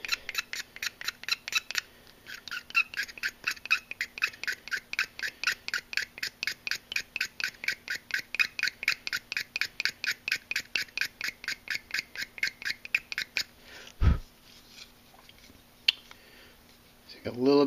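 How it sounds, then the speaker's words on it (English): A blade scrapes red paint off a plastic Gunpla model part, a long run of quick, even scratching strokes close up, with a knock near the end. "In the last step, I'm going to scrape this red, all this red, and just watch it go away until it's flat."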